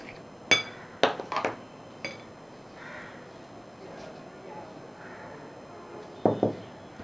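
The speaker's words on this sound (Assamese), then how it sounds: "এতিয়া ইয়াতে মই কণীটো মিক্স কৰি দি দিম।" Egg mixed into pitha batter in a bowl, heard as a few sharp clinks and taps of a utensil against the bowl at irregular intervals, close by, with quiet stretches between.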